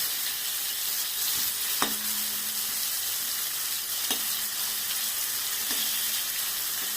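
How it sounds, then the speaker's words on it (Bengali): Dried shrimp shutki sizzling in hot oil in a pan, a steady loud crackling fry with a few brief metallic scrapes from stirring, no voices. "একটু ভালো করে ভেজে নিলে তবেই না টেস্ট হবে শুটকি মাছ।"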